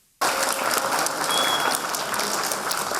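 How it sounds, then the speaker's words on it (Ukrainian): Schoolchildren in Kolomyia applaud after a lesson on explosive-object safety given by rescue workers, a sudden burst of dense, lively clapping from a room full of pupils that continues evenly for several seconds. "Оплески ось така реакція коломийських школярів по завершенні уроку змінної безпеки"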